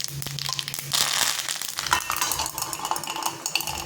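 Mustard seeds, white sesame seeds and curry leaves sizzle and crackle in hot oil for a tempering, a dense steady hiss with sharp pops and a spoon clinking against the pan.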